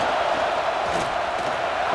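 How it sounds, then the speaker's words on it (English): A football stadium crowd roars in a steady, loud, unbroken wall of noise, with no clear individual voices standing out. "This crowd roaring to try to get an early 3 and out."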